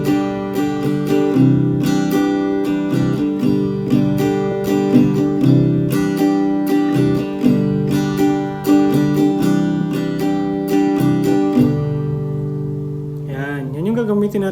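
Acoustic guitar strummed in a steady down-down-up-up-down-up pattern for a song, loud and close, with chords ringing continuously before a brief pause and a slide near the end.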